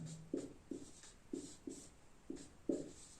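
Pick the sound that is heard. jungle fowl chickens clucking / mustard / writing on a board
writing on a board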